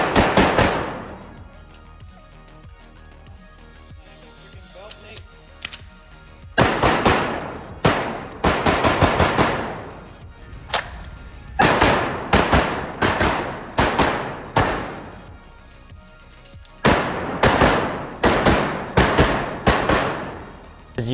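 Canik TP9 Combat Elite pistol firing in rapid strings of loud, sharp shots: a single report, then three quick bursts of several closely spaced shots separated by pauses, close and dominant with no talk.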